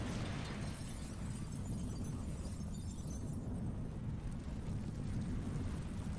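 Deep, sustained rumbling blast from a bomb drop in a video game, a continuous heavy low roar with crackling debris that holds steady and loud for the whole stretch, with no voices.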